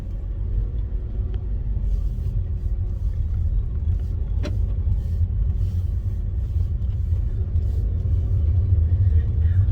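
A car drives along a road with a steady, close low rumble of engine and tires for the whole stretch. A single sharp click cuts in briefly near the middle.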